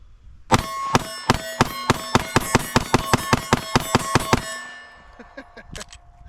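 A Canik Mete MC9 long-slide pistol fires about fifteen sharp, loud shots in quick succession from a 17-round magazine, each crack ringing metallically, followed by a lingering ring and a few light clinks.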